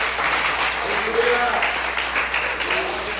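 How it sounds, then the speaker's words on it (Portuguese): A church congregation at Igreja de Nova Vida do Catete claps together in a steady, dense patter of applause that carries on for the whole stretch. Voices murmur underneath it. "dê uma salva de palmas a esse Deus que vive"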